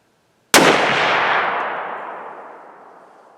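A single loud gunshot from a gun being test-fired with reloaded ammunition cracks sharply after a brief silence, then rings out in a long, fading echo.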